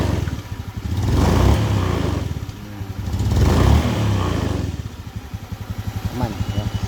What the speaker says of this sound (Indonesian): Nah ini ya suaranya, kita coba gas.